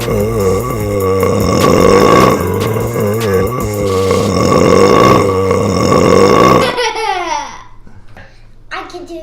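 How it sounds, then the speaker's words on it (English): A loud, drawn-out burp from a child in a playful burping contest, rumbling for several seconds before trailing off into brief giggles and babbling. "You ready to hear a real burp?"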